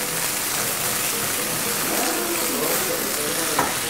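Onion wedges sizzling in a hot pan alongside beef sirloin, a steady, close crackling fry throughout with occasional popping.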